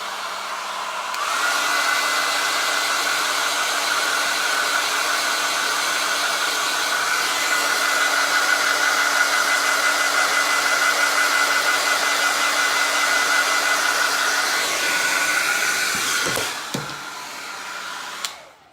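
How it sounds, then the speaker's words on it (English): A hair dryer blows steadily on a DIY Dollar Tree fall harvest banner, a loud continuous whirring rush lasting about fifteen seconds before it cuts off with a few handling clicks. "I'm gonna blow dry these again real quick to make sure they're good and dry"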